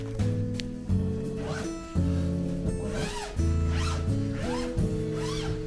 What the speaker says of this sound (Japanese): で、チャックを閉めると、